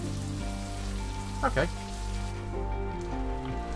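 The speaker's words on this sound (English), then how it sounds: "Just try and enjoy the rain." Rain falls steadily in the video game Necrobarista, a soft continuous patter on surfaces beneath sustained background music, with a brief spoken word partway through.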